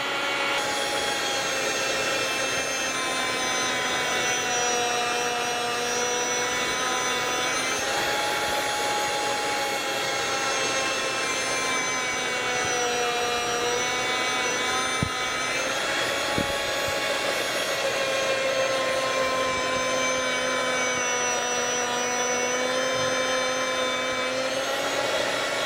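A Chef's Choice 610 electric food slicer cuts meat, its motor holding a steady, close tonal whine with a few faint clicks as slices come off.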